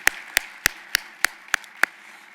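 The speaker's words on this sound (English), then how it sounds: "Let's give a round of applause to all of you for all that you're doing." At a luncheon, seven crisp hand claps ring out one by one at an even, measured pace, each sharp and isolated against a quiet room.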